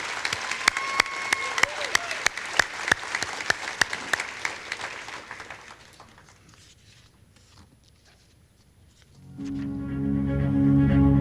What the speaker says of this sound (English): please join me in one more round of applause for our newest Roaring 10 honorees